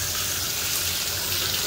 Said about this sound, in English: So this is just like all three faucets.